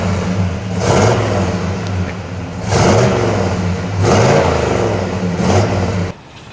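A stock 1972 Chevy Chevelle SS V8 with dual exhaust revs close by in four rising, roaring bursts over a steady rumbling idle, then cuts off abruptly.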